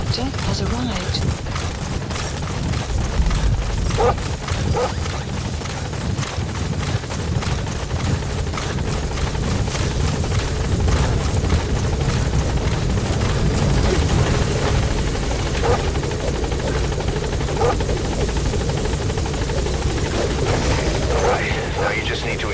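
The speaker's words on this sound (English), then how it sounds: "Support helicopter has arrived." Support helicopter in the video game Metal Gear Solid V: The Phantom Pain, a steady heavy rotor roar holding close and loud throughout, with radio voices speaking over it.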